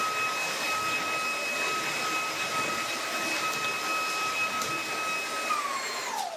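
A Shark cordless vacuum cleaner runs on boost mode over a hard floor, giving a loud, steady motor whine with high tonal hums that dip slightly at the very end.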